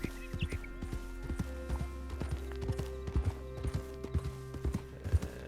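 Horse hooves clip-clop steadily on the ground in the Red Dead Redemption 2 video game, a close, regular rhythm of sharp hoof strikes that continues throughout with no talking.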